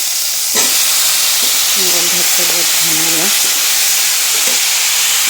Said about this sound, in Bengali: এখানে আমি আলু আর ডাঁটা কেটে নিয়েছিলাম, দিয়ে দিচ্ছি